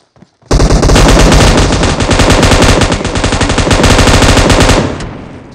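Sustained automatic gunfire in the mobile battle royale game PUBG Mobile, a loud rapid burst of shots running for about four seconds before cutting off, with no talk over it.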